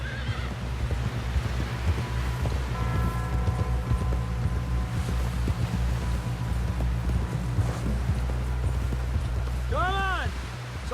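Horse hooves clip-clop at a steady gallop in Red Dead Redemption 2, a continuous rhythmic pounding under wind and game ambience, with a horse whinnying near the end.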